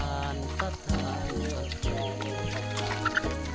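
A fighting rooster clucking and calling at close range on a Lao village farm, repeated short clucks over a steady tonal background.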